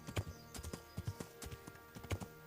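A horse's hooves in Kingdom Come: Deliverance beat out a quick series of distinct clip-clops, close and fairly quiet, with a few heavier thuds mixed into the gait.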